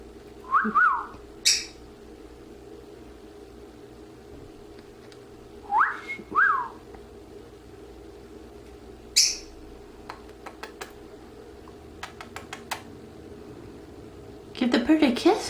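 A pet bird whistles and chirps in short, bright bursts spaced across the clip near the mic, with a few faint clicks between and a voice talking around them.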